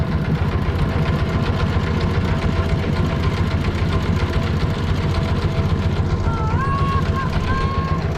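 A boat's engine running steadily while crossing a river in a village, a loud continuous mechanical chug close by, with people talking over it and a brief whistle-like tone near the end.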